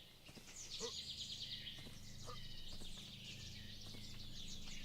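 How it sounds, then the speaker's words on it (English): Birds chirp in a video game set among dragons and hybrid horses, faint high twittering calls over a steady low background drone. "I think there's some birds down here in case you can't hear it by some weird random chance"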